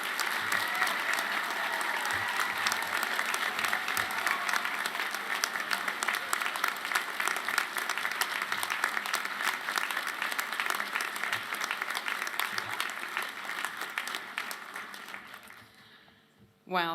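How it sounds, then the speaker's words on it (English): Sustained, loud applause from a large audience celebrating the La Trobe University graduating class of 2026, dense and even throughout, fading out near the end. "If we can all put our hands together for a huge round of applause to savour, celebrate and congratulate our graduating cohort"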